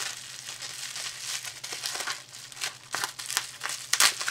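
Plastic bubble wrap mailer bag crinkling and crackling as it is handled and pulled open, a steady run of close, dry rustles with sharper crackles near the end, no voices.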